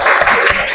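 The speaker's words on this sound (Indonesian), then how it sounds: "Tepuk tangan dulu untuk teman kalian, Mbak Saskia." Classmates in a school classroom clap for a fellow student, a brief, loud, dense burst of many hands clapping together close by.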